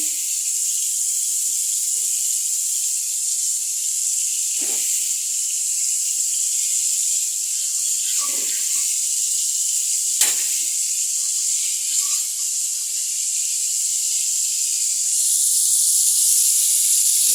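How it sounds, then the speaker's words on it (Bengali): Fish frying in hot oil on a stove gives a steady, close hiss, with a few brief crackles and spits rising from it now and then. "এই চুলায় মাছটা ভেজে নিচ্ছি।"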